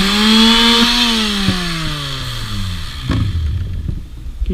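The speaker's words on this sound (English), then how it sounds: "To do a nice once over with 400 grit. Just takes any marks off." A power sander with 400 grit sandpaper works a wooden shelf board. Its loud motor whine falls steadily in pitch as it spins down, and rough sanding noise follows close by.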